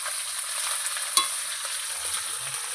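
Onions frying with whole spices like cinnamon, cardamom and cloves in a pan, a continuous close hiss of sizzling oil with one sharp utensil tap midway.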